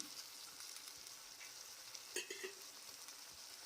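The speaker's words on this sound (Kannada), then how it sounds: "ಟೊಮೊಟೊ ಸ್ವಲ್ಪ ಫ್ರೈ ಆಗಲಿ ನೋಡಿ ಟೊಮೊಟೊ ಫ್ರೈ ಆಗಿದೆ" Tomatoes with salt and cumin fry in a pan with a quiet, steady sizzle and a few soft clinks of a utensil partway through.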